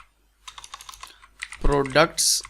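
Quick bursts of clicky keystrokes on a computer keyboard while JavaScript code is typed, close and fairly loud, with a short stretch of spoken words partway through.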